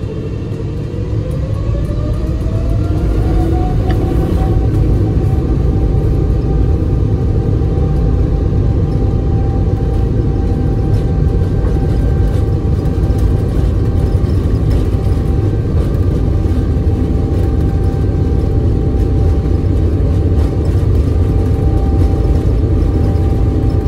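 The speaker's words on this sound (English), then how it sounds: "those of you who are fond of hearing those General Electric GE90 engines spool up can do so as the captain pushes them up to full power" General Electric GE90 jet engines spool up to full takeoff power, a loud continuous rumble and rising whine heard from inside the airliner cabin, steady and sustained throughout.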